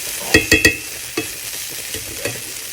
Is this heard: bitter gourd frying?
yes